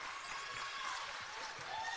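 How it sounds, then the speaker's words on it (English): A high school basketball crowd in Durham at a Mt Zion versus Australia National team game roars and claps in a steady, dense wash of cheering that fills the whole moment. "And you hear the crowd getting fired up here"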